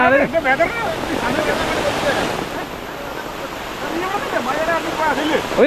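Heavy monsoon rain pours down in Kerala as a steady, dense roar of water that barely changes throughout, with people talking over it.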